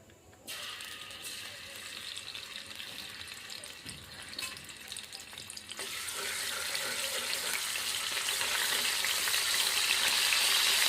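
Garlic paste hits hot oil in a kadai and sizzles loudly. The hiss is steady and bright and grows stronger over several seconds, with faint clinks of stirring.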